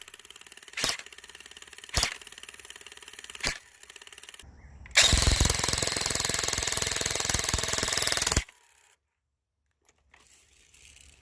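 Airsoft M249 Para firing .20g BBs: three spaced single cracks, then a loud sustained full-auto burst lasting a few seconds before cutting off.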